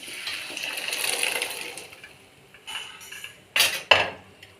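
Water and boiled green peas splash and gush into a metal pan, with clinks of a utensil against cookware and a couple of sharp knocks near the end.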